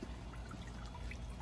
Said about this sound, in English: I'm going to put the water on the bamboo there.